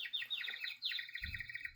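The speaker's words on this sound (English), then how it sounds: "it's a bird." A children's toy plays an electronic bird call, a quick series of bright chirping trills, followed by a short low thump near the end.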